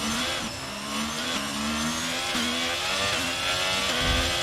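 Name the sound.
race cars accelerating off the start in a racing video game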